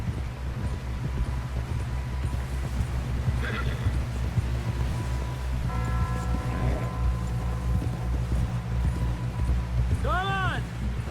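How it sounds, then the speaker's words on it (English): Horse hooves clip-clop steadily through the Red Dead Redemption 2 prologue as riders push toward camp, with a horse whinnying near the end and voices talking over a constant low rumble. "Someone help John down off this horse"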